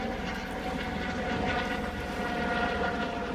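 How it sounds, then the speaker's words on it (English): A private helicopter passes overhead above a beach in North Naples, Florida, its steady engine and rotor drone moderately distant and continuous, carrying over a faint background of surf. "Oh, a private helicopter flying overhead."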